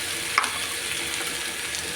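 Cooked rice frying in a pan with egg and chicken for fried rice gives a steady, moderate sizzle, with a brief sharper clink near the start.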